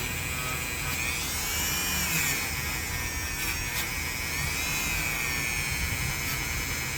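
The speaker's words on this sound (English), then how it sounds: "when you're using the Dremel on these, especially when you're using it at a high speed" A Dremel rotary tool whines at high speed while scrubbing rust off two vintage Hammer Brand knives, a steady, close, shrill buzz that holds through the whole stretch with slight shifts in pitch as it bears on the metal.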